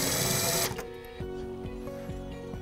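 A power driver snugs screws into a metal structured media center enclosure, a loud whirring burst followed by short repeated mechanical ratcheting bursts, close and unaccompanied by talk.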